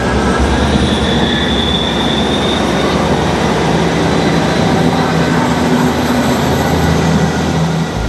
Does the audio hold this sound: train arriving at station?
yes